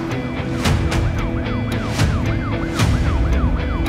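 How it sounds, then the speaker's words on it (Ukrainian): Ambulance siren racing through a city street in Dnipropetrovsk region, Ukraine, in wartime: fast, regular repeating wail sweeps sound loud and close over engine and road rumble, with no voices. "постійно зустрічається швидка допомога, яка кудись мчить."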